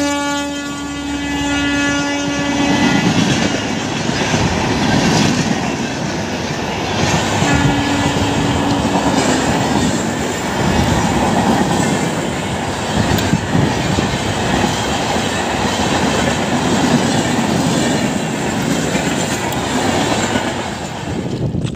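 A train passes on a railway line nearby, opening with a sustained horn blast and a second shorter blast, then a long, loud rumble and clatter of wagons rolling past.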